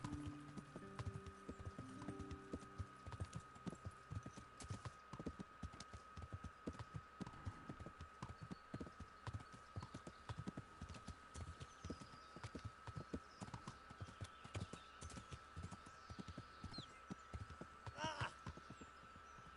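Horse hooves clip-clop in a steady walking rhythm throughout in the medieval video game Kingdom Come: Deliverance, close and clear over a constant low hum, with a brief snort or whinny near the end.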